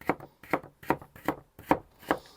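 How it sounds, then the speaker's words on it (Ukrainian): A knife strikes a cutting board in six steady, evenly spaced chops, cutting beetroot into thin strips, close and clear, with no voices. "Потім беремо ці кільця і рубаємо на солому."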